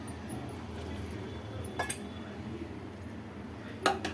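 Whole wheat chocolate cake batter with milk is stirred in a bowl, giving a soft, wet background with two sharp utensil clinks against the bowl, one near the middle and one near the end.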